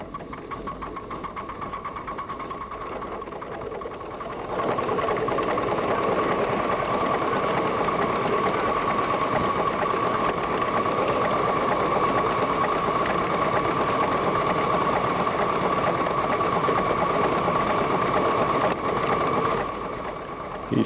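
A live steam model locomotive runs with its blower on, giving a steady rapid chuffing and mechanical hum that grows louder after a few seconds, then holds evenly and eases off near the end.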